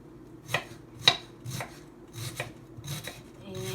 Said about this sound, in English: so it's time to slice the cabbage.